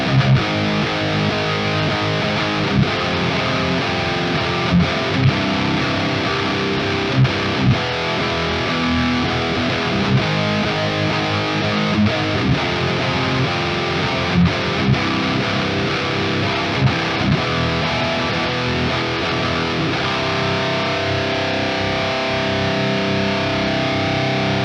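Heavily distorted electric guitar through the Amped Roots 2.0 amp simulator with all knobs at noon, chugging and ringing chords, loud and dense, playing continuously with no voices.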